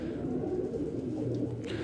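A lightweight racing pigeon gives soft, low repeated coos close by, a steady throaty murmur over faint room noise.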